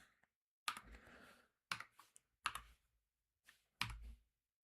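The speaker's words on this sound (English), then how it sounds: "So I have one of them dumbass Keychron keyboards" Typing on a Keychron mechanical keyboard, heard as a few short clusters of close, crisp key clacks separated by silent pauses, quiet overall with no talk.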